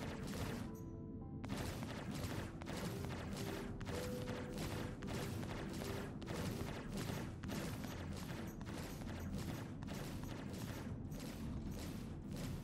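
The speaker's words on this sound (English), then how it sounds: "Boom. That is a very different type of explosion." Rapid, dense bursts of blasts and crackling impacts from a space combat in Star Citizen, a relentless loud barrage of explosions and gunfire continuing without pause after a brief quieter opening.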